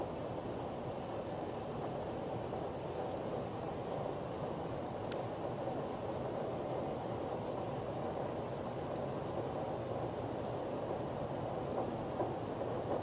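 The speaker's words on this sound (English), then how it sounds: "Is that just the sound of the rain?" Rain pours onto glass in the video game Satisfactory, a steady dense hiss and patter that holds evenly throughout without any voices.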